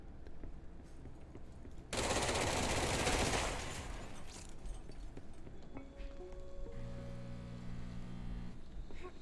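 An automatic weapon in the action game Control fires one dense, rapid burst of about two seconds. Quieter game noise and a few tonal beeps follow.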